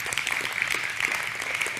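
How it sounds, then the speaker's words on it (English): An audience applauds at an evening lecture, a dense and even patter of many hands clapping at close range throughout, with no pauses. "thank you for the applause"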